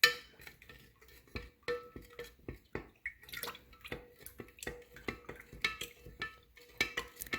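A spoon stirring elderberry syrup and honey in a pot or bowl, giving repeated soft scraping strokes, light clinks and wet dripping sounds in an irregular rhythm, close up and fairly quiet, with no talking.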